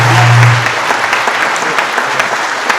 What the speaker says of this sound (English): Everyone give these two a round of applause